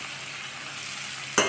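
Spice powders such as turmeric, Kashmiri chilli and coriander fry in oil for an egg tadka, making a brief steady hiss at close range that ends in one sharp stirring scrape. No voices are heard.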